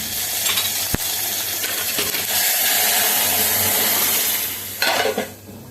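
Cooked tur dal tempered with cumin, asafoetida and turmeric boils in a pot, producing a steady bubbling hiss with occasional metallic clinks of a utensil against the pot, no speech.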